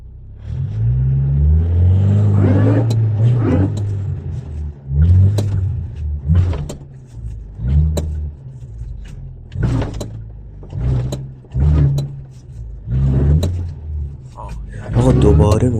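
A stuck car's engine revs hard in repeated bursts, each rising and falling with rumbling low roar and short pauses between, while someone talks over it.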